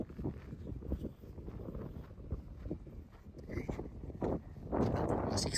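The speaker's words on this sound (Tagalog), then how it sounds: "Medyo malakas lang hangin." Strong wind buffets the microphone in uneven gusts, rumbling low and loud, growing rougher toward the end.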